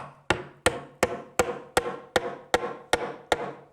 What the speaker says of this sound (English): we're going to slip the rove on and drive it down with this rove set here